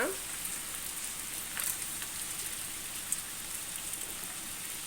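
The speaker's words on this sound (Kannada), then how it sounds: "ಮಳೆ ಎಷ್ಟು ಜೋರಾಗಿ ಬರ್ತಾ ಇದೆ" Heavy monsoon rain falls steadily outside a home, a continuous even hiss with a few brief spatters and no voices.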